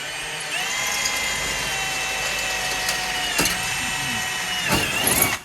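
A power drill with a 1/8 inch bit whines steadily at close range, drilling rivet holes, its pitch dipping briefly as it bites, with a couple of sharp clicks and knocks.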